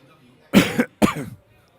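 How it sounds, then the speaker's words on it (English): Two quick, close coughs in a row, loud and sharp, with near silence before and after. "Excuse my cough."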